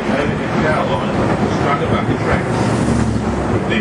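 A steady rumble of a tourist tram rolling along tracks in Bendigo, Australia, with low mechanical noise and faint rattling, and a voice speaking over it.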